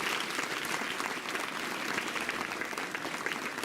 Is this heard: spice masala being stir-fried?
no